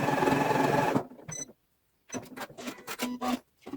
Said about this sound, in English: That sound there was the machine just checking there's enough bobbin in the bottom, so we're not sewing without